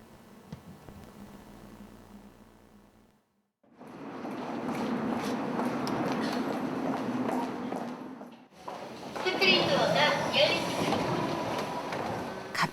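A subway train rumbles loud and steady after a few quiet seconds, a dense continuous roar that shifts in character partway through, as if the carriage changes speed or track.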